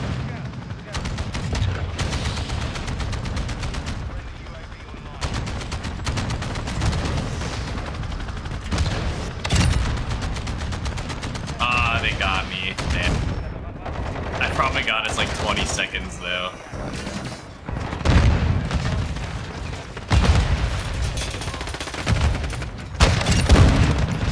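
Video game gunfire, bursts of rapid automatic shots and single cracks with occasional booms, loud and close, repeated throughout amid game noise, with talk heard at times.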